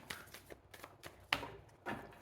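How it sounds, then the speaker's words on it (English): A deck of oracle cards gets shuffled three times close by, quiet riffling bursts and soft taps with short pauses between them. "3 shuffles before I cut the deck."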